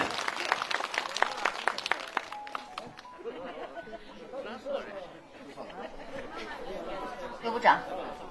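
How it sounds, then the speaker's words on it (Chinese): A crowd at a New Year charity gathering breaks into brisk applause that fades after a few seconds into murmuring chatter, with a sharp sound near the end. "大家再一次给一些热烈的掌声。"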